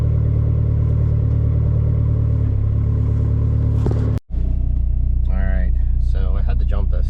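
A car engine, an NSRT4 that had been sitting for months with a dead battery, runs with a loud low rumble, briefly cuts out, then restarts and keeps idling while someone talks over it.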